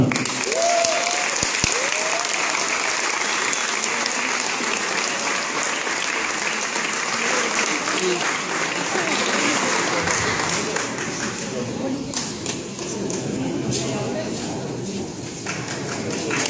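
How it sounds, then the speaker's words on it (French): Sustained applause from a crowd at an award ceremony for a young boxer, dense clapping throughout that thins out toward the end, with a brief whistle near the start. "Vous pouvez l'applaudir à nouveau"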